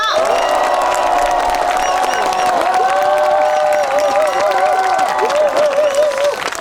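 An audience at a subcontract workers' rights rally applauds and cheers the performing group, loud sustained clapping with whoops and crowd voices over a musical tone that carries throughout.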